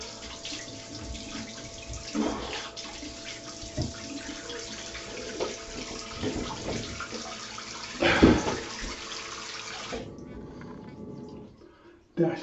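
Tap water runs steadily throughout while something is rinsed, with a few clattering splashes and a brief burst near the end, as a voice talks over it.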